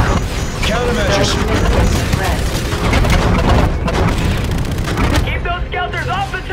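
A heavy, booming explosion from an incoming missile rolls through a lunar battle zone in Call of Duty: Infinite Warfare, layered with continuous combat noise and radio chatter from soldiers.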